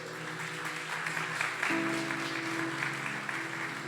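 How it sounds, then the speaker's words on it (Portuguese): A church congregation claps together during a Sunday service, a steady, moderate applause with a sustained organ-like tone entering midway beneath it. "Vamos aplaudir Jesus bem forte."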